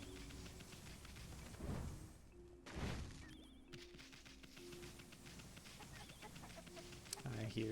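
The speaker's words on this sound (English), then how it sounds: "I hear chickens." Chickens cluck and squawk in the video game Okami, sounding moderately close in a quiet outdoor scene, with a couple of louder bursts and some rustling. A voice talks faintly in places.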